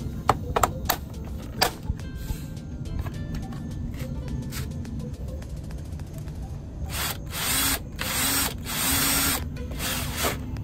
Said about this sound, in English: So be careful when you're drilling out right here,